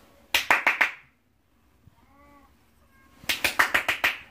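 Hand clapping in two bursts, about four sharp claps, a pause with a soft whistling tone, then about six more claps in quick rhythm, close and loud, while a Chihuahua recovering from hypoxic brain injury is coaxed along.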